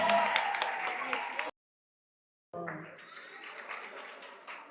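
Audience applause in a school quiz competition hall, a short burst of clapping cut off abruptly, then a thinner patter of claps resuming after a silent gap.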